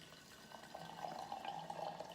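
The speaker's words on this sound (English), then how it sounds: "we just pour in the water which I prepared. It's around 65 degrees Celsius," Hot water at about 65 °C poured from a kettle into a teapot, a soft, steady trickle of liquid that grows slightly fuller as the pot fills, faint and close, with no talking.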